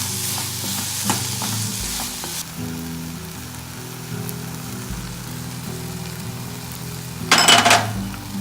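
Tomatoes sauté in oil in a pan for rajma masala gravy, giving a steady sizzle with a few spoon scrapes and clinks, then a louder burst of stirring near the end and no talk.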